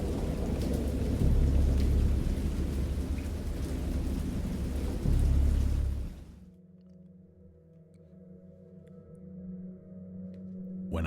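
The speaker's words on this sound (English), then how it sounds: "I heard peals of thunder and other tones which nature utters only in her wildest moods" Heavy rain and rolling thunder in a storm, loud and dense for about six seconds, then cutting to a quieter stretch with a low lingering rumble.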